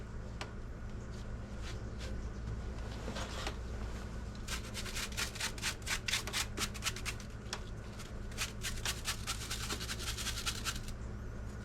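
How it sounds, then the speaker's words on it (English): An air conditioner filter scrubbed clean, with a rapid run of close, crisp scratching strokes that starts sparse and grows dense and rhythmic in the middle, over a steady low background hum. "I'm going to clean this filter and get it turned back on."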